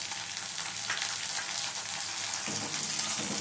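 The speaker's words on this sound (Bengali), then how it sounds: "এইবার টমেটোটা কেটে রেখেছিলাম সেটা দিয়ে দিচ্ছি পেঁয়াজের সাথে" Chopped tomato tipped into onions already frying in a pan, giving a steady, close hiss of sizzling oil that holds through the whole stretch, with a slight change in texture as the tomato goes in.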